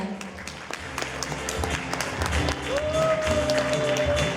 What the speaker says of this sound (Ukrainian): І ми не жалкуємо наших оплесків